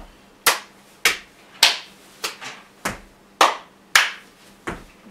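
Sharp hand claps and slaps from a clap-and-slap dance come about nine times in an uneven rhythm, each crisp, loud and close with a short room echo, and no one talks.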